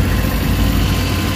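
A Suzuki DA64W turbo engine idles close by, a loud, steady low rumble with an even hum and no talking.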